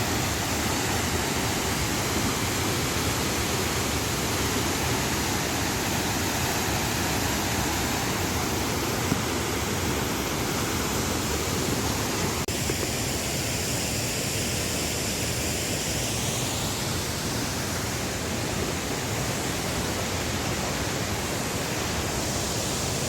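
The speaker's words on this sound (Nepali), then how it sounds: "मेरो गाउँको झर्ना चाहिँ यही है गाइस" A village waterfall in Kulekhani rushes in a dense, steady roar of falling water, loud and continuous throughout, with no voices.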